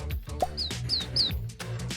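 Three quick, high bird chirps ring out in a row over a low background murmur in a children's program, each tweet short and sharp, with a brief lower tone just before them.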